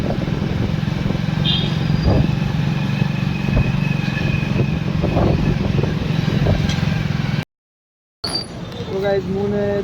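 A motorcycle rumbles steadily at close range while being ridden, its engine drone continuous with occasional clatter, followed by a brief cut and a voice speaking at the end.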